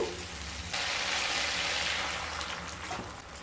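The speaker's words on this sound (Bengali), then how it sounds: "এবার পরিমাণ মতো জল দিয়ে দেব" Water is poured into a pan of well-fried spices for a Bengali fennel-flavoured parshe fish dish, producing a soft, rain-like patter and sizzle that swells suddenly and continues at low volume.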